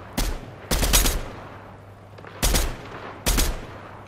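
Heavy sniper gunfire in a battle royale video game, four sharp loud shots in uneven bursts over a low steady hum, with no talking.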